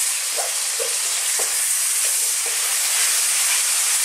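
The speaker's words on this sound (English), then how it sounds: "I'm going to cook this on a kind of lively heat, as you can hear" Steady, dense sizzling of sausages frying in a hot pan on lively heat, a continuous loud hiss with a few soft knocks and scrapes underneath.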